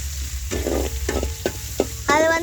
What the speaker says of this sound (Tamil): வெங்காயம் நல்லா வதக்கலாம். இப்போ நல்லா வறுத்துக்கலாம்.